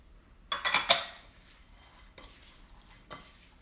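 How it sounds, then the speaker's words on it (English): Sliced almonds tumble into a bowl of dry baking ingredients with a short burst of light clinks and rattles, followed by a couple of faint soft taps. "now I'm going to add my sliced almonds"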